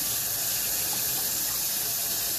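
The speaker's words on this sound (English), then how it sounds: "Let me rinse this real quick." Tap water running steadily into a kitchen sink while something is rinsed under it, a loud, even rushing hiss that fills the whole stretch with no talk.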